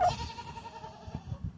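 Goats bleat on a farm, a few close calls over a steady low rumble of animal movement and background noise, with no talking.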